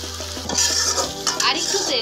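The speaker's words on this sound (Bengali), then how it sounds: "এখন ভালো করে মশলাটা কষিয়ে নেব।" Spicy beef masala with chili powder being sautéed in a pan, a spoon scraping and stirring through sizzling oil in close, continuous rhythmic strokes.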